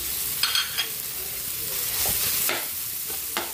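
Ground pork sizzles and stir-fries in a hot pan alongside sotanghon noodles, with a steady crackling hiss and a few scraping stirs of the spatula.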